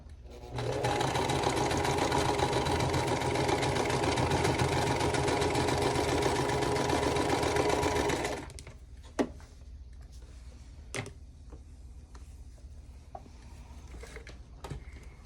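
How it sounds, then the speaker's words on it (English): A sewing machine runs steadily for about eight seconds, stitching pieces of a quilt block for a Small Town house block. Then it stops and a few small clicks and handling sounds follow. "I'm going to go ahead and sew the two bottom houses together"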